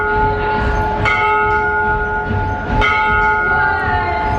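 A museum exhibit's sound and light show for the Reuben Wells locomotive plays steady ringing bell tones over a constant rumbling mechanical bed, loud and continuous, with no talk.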